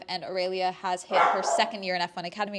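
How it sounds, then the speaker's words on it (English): A pet dog named Hermes barks indoors, a short burst of sharp barks in the middle, heard under a person talking close by. "Excuse my dog barking."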